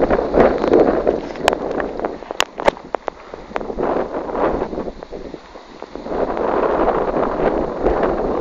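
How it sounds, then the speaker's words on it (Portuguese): Strong wind buffets the microphone in a steady roar in a tree-lined cemetery, with a few sharp clicks and knocks partway through. "Tá ventando muito."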